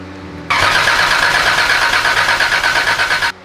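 A rebuilt car engine cranks over on the starter with no oil pressure. The whirring, pulsing churn is steady and loud, starts abruptly, runs about three seconds without firing and then cuts off, with no voices.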